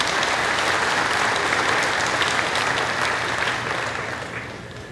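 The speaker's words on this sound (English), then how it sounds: "Let's give her a round of applause" A crowd at a livestock show's sale of champions claps for an agricultural business student intern, a thick sustained round of applause that gradually fades toward the end.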